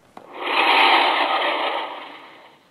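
A jet sound effect from a Fisher-Price Laugh & Learn toy smart pad, a loud steady whooshing roar that swells and fades over a few seconds.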